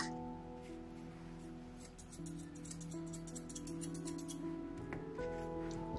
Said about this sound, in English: Now I'm going to clean up the bevel with some curved thinners.